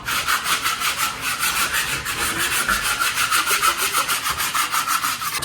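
Rapid rhythmic scraping of an 8-inch taping knife rubbed back and forth across drywall to sand high ridges, steady and close, with no talking.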